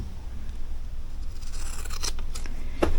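Scissors trimming fabric for a quilted sweatshirt sleeve, close and fairly loud, with a quiet lead-in giving way to a few crisp snipping cuts toward the end and no talk over them.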